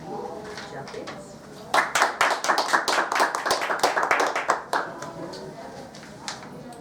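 An audience claps to welcome a speaker, the applause swelling suddenly into a burst of dense, close hand claps for a few seconds before thinning out and fading.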